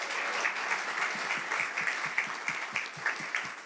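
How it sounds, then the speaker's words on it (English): An audience at an authors' event gives steady applause, a crowd of hands clapping at moderate volume with some individual claps standing out rhythmically, sustained without speech throughout. "let's go ahead and give them a hand of applause"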